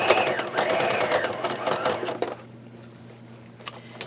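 A sewing machine runs a rapid, close, buzzing stitch while sewing a zipper onto a fabric bag, then stops after about two seconds, leaving a quiet hum and a faint click.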